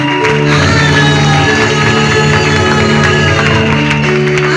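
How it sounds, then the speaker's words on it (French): A church congregation at a Sunday service cheering and shouting loudly, a sustained roar of many voices with whoops and some clapping, very loud and close throughout. "je veux que tu acclames encore très fort"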